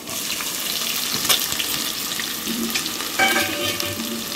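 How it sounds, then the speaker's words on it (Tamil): Chopped onions sizzle steadily in a hot pan, a continuous crackling hiss with occasional scrapes of a spoon stirring, close and fairly loud. "இப்போ நம்ம நல்லா வதக்குவோம். கரண்டி விட்டு நல்லா கலரி வதக்குவோம்."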